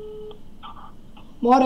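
Phone call going unanswered, with steady line tones and dialing beeps followed by a brief spoken word at the end.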